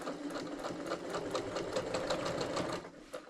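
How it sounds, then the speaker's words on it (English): A sewing machine stitches quarter-inch seams along a quilt block being attached to a sweatshirt. It runs close and steady, a rapid even patter of stitches for several seconds with no talking. "we're going to take this to our sewing machine, and we're going to sew 1/4 inch down this side"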